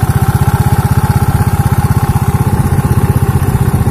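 A Yamaha Mio Sporty scooter engine idles steadily up close, running on Prima XP SAE 20W-50 oil, with a fast, even low-pitched putter and light mechanical clatter throughout, no voices.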